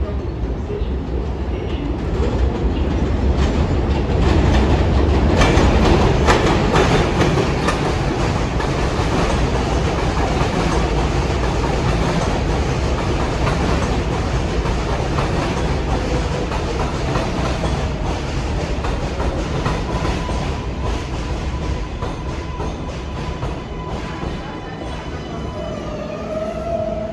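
An R142 or R142A New York subway 4 train running through the elevated 167th Street station, heard as a loud, steady rumble of wheels and motors with clattering rail joints that eases slightly toward the end.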